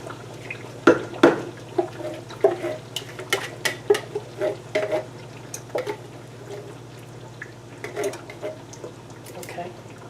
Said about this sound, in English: we're going to add 1 can of crushed tomatoes right into the pot